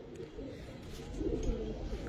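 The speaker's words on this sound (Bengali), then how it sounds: "এটা ভাই একটা আমার ঘরেরই গিরিবাজ কবুতর জোড়া" A home-bred pair of Giribaz flying pigeons coo softly and nearby, a low, continuous burbling murmur that swells slightly toward the end over faint background noise.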